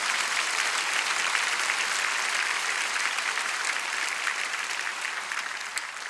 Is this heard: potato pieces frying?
no